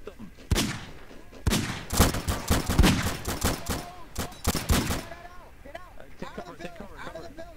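Rapid bursts of gunfire in a WWII video game set in 1944, loud close shots cracking in quick clusters for several seconds, then fading as overlapping voices talk.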